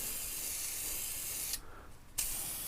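Spray paint laid as a light coat over car parts, a close, steady hiss that cuts off briefly and then resumes as a second pass.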